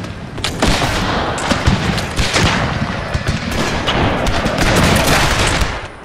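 Musket and cannon fire in the Total War video game during a Thirty Years' War Habsburg battle, dense overlapping volleys of sharp cracks and booms that roll on continuously at close range.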